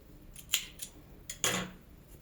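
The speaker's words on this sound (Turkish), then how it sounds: "burada ipimi kesiyorum" Scissors snip yarn while crocheting a headband: several quick, crisp metallic cuts close by, the last one longer, with no talking.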